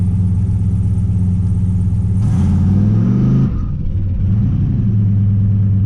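A cheap turbocharged LS engine holds steady, then climbs in a rising rev against the brakes while one tire spins, before dropping back to a steady rumble. Close and loud, with no talk.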